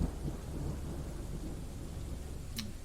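Rain falling on the surface in the video game Dwarf Fortress, a steady broadband hiss with a low rumbling bed that runs unbroken, plus one brief sharp tick near the end.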